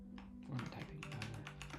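Typing on a computer keyboard during a live Network+ study session, a steady run of close, quick key clicks over a low background hum for under two seconds.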